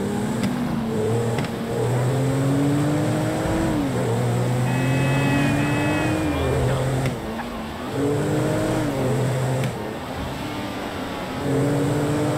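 Car engine in GTA 5 gameplay, steady droning revs rising and falling in pitch with gear shifts as the vehicle drives, loud and continuous, with brief game voices over it.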